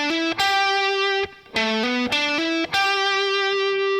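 A distorted electric guitar plays the hammer-on lick from a song's solo, a few sustained, harmonically rich notes repeated in short phrases, close and alone.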